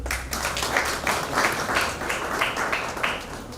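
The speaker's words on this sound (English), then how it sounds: "I didn't expect you to clap." An audience at a speech bursts into sustained clapping, a dense, steady patter of many hands that fills the room without any talk over it.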